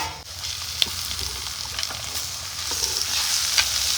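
Sliced onions, shallots and ginger frying in a pan while being stirred, a dense steady close sizzle with light intermittent scrapes and taps of the spoon, no voices.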